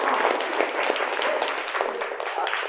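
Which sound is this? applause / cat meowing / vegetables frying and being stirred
applause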